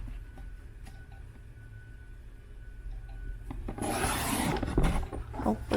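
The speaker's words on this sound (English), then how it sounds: "I'm just going to cut it out" Paper glued down for a diamond painting log book is cut out, giving a faint scraping and rasping that turns to a louder, close cutting sound in the final couple of seconds over a quiet room hum.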